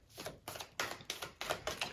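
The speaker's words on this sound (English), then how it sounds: "This deck is tricky to shuffle because it's kind of big." A large deck of cards being shuffled, six quick crisp riffling bursts in a steady rhythm, close and fairly quiet with no talk.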